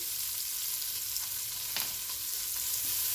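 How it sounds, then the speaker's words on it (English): Onions sauté with a sprinkle of sugar in a pan, giving a steady, close sizzle and frying hiss throughout, with a few faint stirring scrapes and no voices. "With the onion sauteing"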